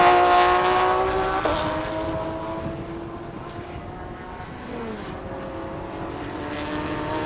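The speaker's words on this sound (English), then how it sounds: "Once the Porsche leaves the turn, it's just stretching the long straightaway." A Porsche race car accelerates down a long straightaway at a circuit race, its engine tone climbing through gear changes and then fading off into the distance, loud at first and then steady and farther away.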